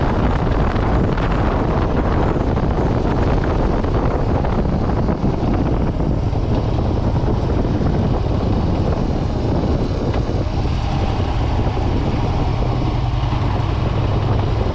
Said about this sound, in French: je n'ai pas mis de musique pour garder le bruit de la moto et de la route